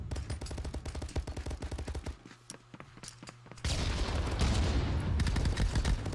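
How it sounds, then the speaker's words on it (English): Rapid automatic gunfire in Apex Legends, dense bursts of shots, a short quieter gap with a few scattered pops, then another loud sustained volley. "Oh, and he gets shot. Not sure where those shots were coming from."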